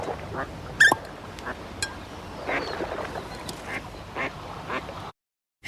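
Ducks quacking on an open pond, a scattering of short, moderately distant quacks over steady outdoor ambience, one louder call standing out early before the sound cuts off.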